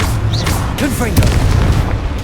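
A Confringo fire-blast spell explodes in Hogwarts Legacy, heavy booming bursts under chirpy game effects and a voice, with a rolling low rumble through the second half.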